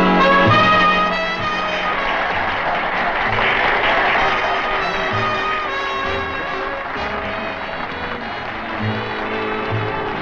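An audience applauds finalists at a beauty contest in a 1959 science-fiction horror film, a steady crowd clapping under prominent orchestral music for the whole stretch.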